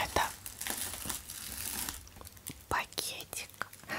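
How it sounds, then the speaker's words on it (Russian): Close, soft crinkling and rustling of a thin plastic bag, steady with a few sharper crackles, no voices. "На этот случай у меня всегда есть пакет."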